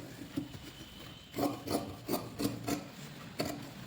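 Scissors snip through blouse fabric in a series of short rasping cuts, several in a row with brief pauses between them, close and fairly quiet, with no one speaking.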